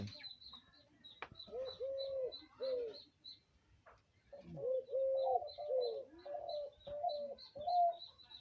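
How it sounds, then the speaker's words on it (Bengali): Soft, repeated spotted dove coos in low rounded phrases, with faint higher chirps from other birds throughout; moderately near, in a quiet outdoor setting. "দেখুন বাকি ভাই ডাকছে পাখি"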